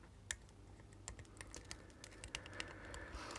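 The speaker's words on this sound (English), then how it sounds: "I'm going to crop those now with a standard pair of cheapo snips off eBay" Cheap wire snips cropping soldered LED leads on a circuit board, a quiet series of small sharp clicks and snaps at an irregular rhythm, close up.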